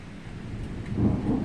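Low rolling thunder rumbles through a thunderstorm with steady rain, swelling louder toward the end, no voices.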